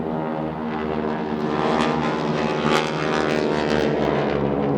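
Boeing Stearman 450 biplane at the Flying Legends Duxford 2010 airshow, a 450-horsepower radial engine droning loud and steady throughout with a constant rumbling roar, no talk.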